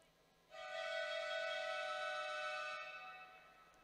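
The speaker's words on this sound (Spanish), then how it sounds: "Suena la bocina." A long, steady electronic horn sounds at a professional women's basketball game, holding loud for about two and a half seconds before fading, with an arena murmur around it.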